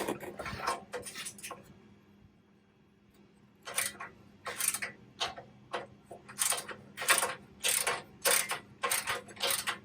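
A ratchet working on a bolt while a 4th Gen 4Runner skid plate is removed, a close, crisp series of rapid clicking bursts, first a short run, a pause, then steady repeated ratcheting strokes.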